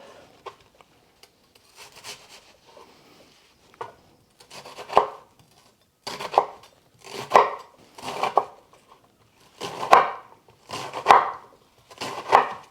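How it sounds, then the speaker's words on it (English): A knife works through an onion for a chana masala on a cutting board, with a series of close, scraping strokes that start sparse, then settle into a steady rhythm of about one cut a second, with no talk. "But I am going to cut up my onion."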